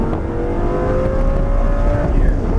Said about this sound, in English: Full throttle coming off again.